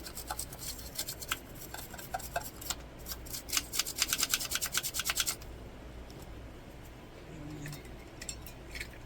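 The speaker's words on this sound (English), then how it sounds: "We're just going to brush out all these connections really quick." A brush scrubs quickly across the electronic connections of a 2007 EyeClops TV microscope, making rapid rhythmic scratchy strokes up close for about five seconds before the scrubbing fades to a quiet hiss.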